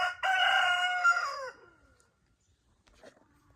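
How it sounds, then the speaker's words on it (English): A single rooster crow rings out loud and close, a long drawn call at dawn that trails off into quiet, followed by a faint distant sound. "The crow is also really cool to kind of wake up to."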